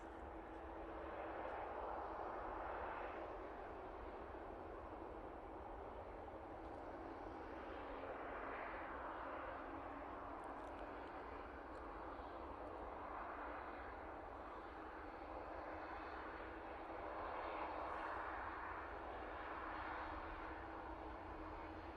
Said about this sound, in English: Dreamliner making its way out towards us